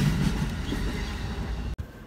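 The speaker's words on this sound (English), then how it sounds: "Yeah, choo-choo train," Train passing in Tacoma, a loud, close rumbling roll of rail cars with a steady low clatter that cuts off abruptly for a moment near the end.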